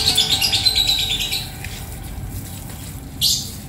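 A small moulting songbird sings a rapid, high chirping phrase up close, pauses amid faint background noise, then lets out another short burst.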